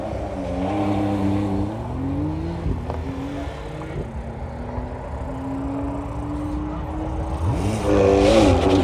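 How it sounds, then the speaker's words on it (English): A McLaren 720S with a special custom exhaust build revs at a supercar festival runway event, its engine note rising and falling through several sustained pulls, loud and close throughout. "Very special exhaust build on Hadsley's 720S"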